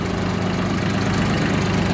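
A tractor with a KM385 engine idles steadily and loudly up close, a constant low rumbling drone with no voices over it.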